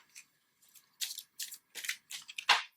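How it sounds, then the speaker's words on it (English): Tarot cards are shuffled in quick papery riffles and flicks, a series of short crisp bursts ending in a louder flutter. "One last little shuffle and I'll pull one more."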